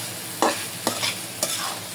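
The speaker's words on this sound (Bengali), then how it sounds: "ভালো করে মশলার সাথে মিশিয়ে দেব।" Goat tripe and spices are stirred in an oily frying pan, with three distinct, close scrapes of the spatula over a soft, constant sizzle.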